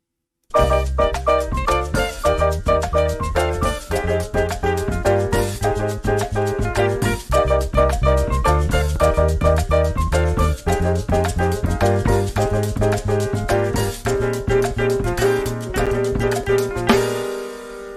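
A full instrumental music passage plays steadily throughout, with layered melodic and rhythmic parts, ending on a sustained chord.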